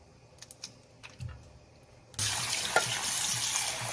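Shrimp are rinsed under a running kitchen tap; after a few soft clicks, the water suddenly gushes on in a loud, steady splashing stream for the last couple of seconds.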